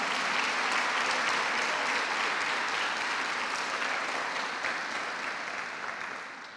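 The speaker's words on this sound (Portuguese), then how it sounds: "Aplauda o nome de Jesus, meu irmão." Church congregation at a Portuguese-language conference applauding, a dense, sustained roar of clapping from many hands that holds steady and then slowly fades toward the end.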